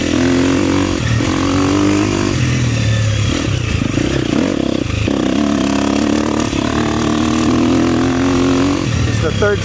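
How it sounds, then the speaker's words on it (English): Enduro dirt bike ridden through high desert terrain, its engine loud and close throughout, revving and surging with gear changes, with clattering and scraping over rough ground and voices underneath. "Riding some high desert enduro."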